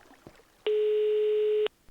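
A single steady electronic tone sounds for about a second, a synthetic phone ring in a Minecraft game, clean and clear against a quiet background.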